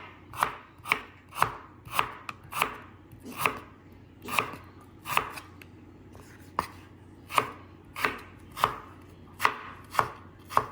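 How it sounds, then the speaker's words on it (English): Knife chopping shallots and ingredients for a Vietnamese chicken stir fry on a cutting board, crisp, close taps in a steady, evenly spaced rhythm, with a brief pause midway before chopping resumes. "now that I got the chopping here"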